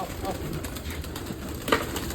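Pigeons coo softly and repeatedly nearby, a low burbling chorus with faint background noise and a brief sharper sound near the end.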